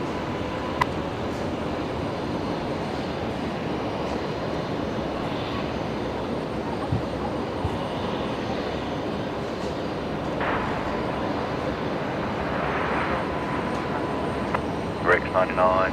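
A Rex aircraft taxis off the rapid exit at Brisbane Airport, its engines a steady broad rumble heard from a distance, with voices talking across it.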